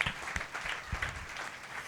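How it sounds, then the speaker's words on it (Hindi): Church congregation clapping loudly in praise during a Saturday satsang, a dense burst of applause that rises and falls over a couple of seconds with a few sharper claps on top. "जोर से ताली बजा के प्रभु को महिमा दो।"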